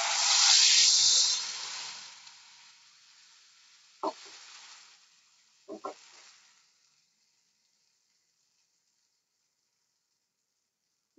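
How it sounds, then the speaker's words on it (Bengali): A blended paste of onion, garlic, ginger, green chilli, coriander, cashew and yogurt hits hot oil in a kadai, erupting into a loud hiss that fades over two seconds, followed by a few faint clinks. "এবার আমরা কড়াইয়ে তেলের মধ্যে দিয়ে দিচ্ছি এই যে যে মশলাটা আমরা মিক্সিতে বেটে রেখেছিলাম"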